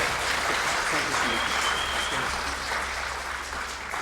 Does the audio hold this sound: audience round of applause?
yes